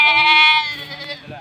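A goat on a farm gives a loud, close, wavering bleat that tails off, with faint background sounds after it.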